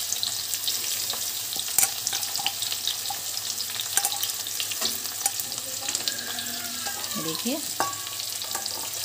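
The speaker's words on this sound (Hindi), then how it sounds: "अब हम इसमें डालेंगे प्याज, जिसे हमें अच्छी तरह से भूनना है।" Onions fry in a pan for aloo dum biryani, a continuous close sizzle with stirring scrapes and a few clinks, while a person speaks briefly.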